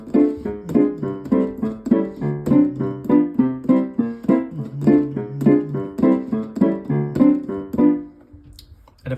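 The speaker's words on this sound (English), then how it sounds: "I'll play you a chord progression typical of this era." Stride piano left hand runs through a chord progression typical of the swing era, a steady oom-pah alternation of bass notes and chords played solo and close, ringing out briefly at the end.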